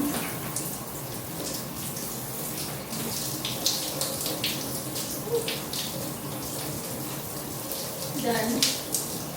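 Shower water runs steadily through a curly-hair wash day while hair is brushed, a continuous hiss with faint scraping and handling sounds over it and a brief louder splash near the end.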